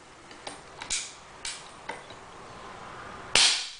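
An AirWolf air rifle firing, a series of small sharp clicks and snaps followed by one louder crack near the end, close and fairly quiet overall.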